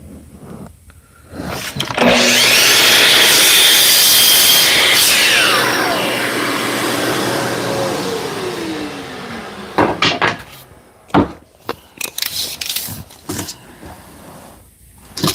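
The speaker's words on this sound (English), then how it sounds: "I'll cut both of these over on the miter saw." A miter saw cuts wooden pieces in a workshop: a loud sustained whine with the blade spinning up and down for several seconds, followed by scattered clatters and knocks as the pieces are handled.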